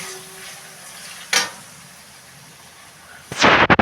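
Water poured into a pan of frying spiced potatoes and pointed gourd bursts into a loud, hissing sizzle near the end, following a quieter stretch of low frying and a single sharp clank of a utensil.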